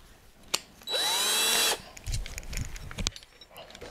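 A drill fitted with a socket spins an eye bolt to lift a vintage 750 lb stove, giving one short, high whirring burst of under a second amid quieter clunks and handling noises.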